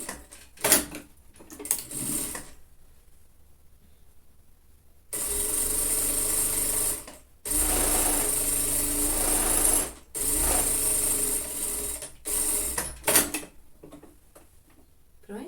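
A sewing machine runs a securing seam on a lined children's jacket in bursts of steady whirring, a long run in the middle followed by shorter runs, with quieter handling gaps between them.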